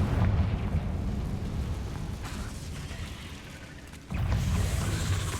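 A Confringo blast spell in Hogwarts Legacy on Xbox: a dense, rumbling explosive burst that rolls on and fades, then a second heavy boom kicks in near the end, loud with no talk.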